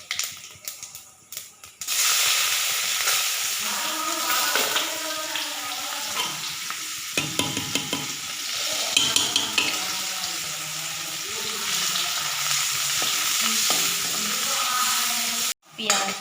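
Dried red chillies, cumin seeds and onion fry in hot oil, a steady close sizzle with occasional stirring scrapes and clinks, starting after a short quiet opening and cutting off briefly near the end.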